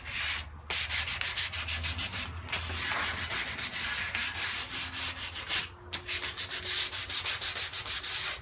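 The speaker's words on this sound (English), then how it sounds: "now that the putty is dried, I'm going to sand it. I'm going to use 120 grit sandpaper" Close, steady sanding with 120 grit sandpaper smooths dried wood putty on the edges of an exterior solid core door, a rhythmic scratchy rubbing that continues with only brief pauses.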